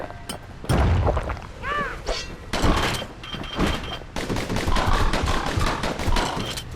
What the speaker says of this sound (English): I'm not very good with the dueling pistols, and I don't think they're a very good weapon.